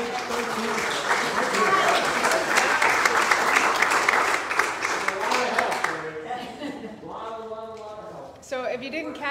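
Applause during a church worship service, dense steady clapping from a congregation for about six seconds, then fading out as a voice begins speaking over the last few claps.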